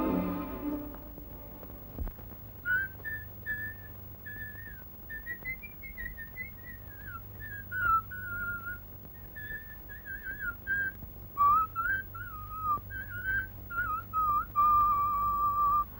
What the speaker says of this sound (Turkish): Hadi artık ıslık öttürme.